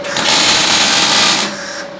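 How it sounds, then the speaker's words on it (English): Tack weld being struck during hands-on welding training in a machine shop: a steady, loud crackling hiss lasting about a second and a half, then cutting off into quieter shop background. "Point it at the end, and we're going to do a tack weld"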